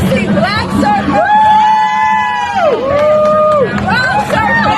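A crowd at a film festival cheers and whoops, with several loud rising and falling yells over a busy hubbub of voices, close and continuous throughout.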